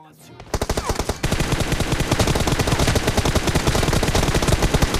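M416 assault rifle fire in a shooter video game: after a brief quiet opening, a few quick single shots give way to long, rapid automatic bursts, loud, close and nearly continuous to the end.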